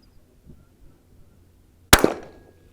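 A single sharp crack from a CZ 455 .22LR rifle fired at long range outdoors, loud and abrupt after near silence, followed by a short decaying ring.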